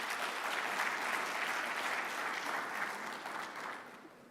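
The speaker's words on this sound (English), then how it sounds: "Can you please give her a round of applause?" Sustained applause from a conference audience at an industry partnerships summit, steady and fairly close for about four seconds before gradually thinning toward the end.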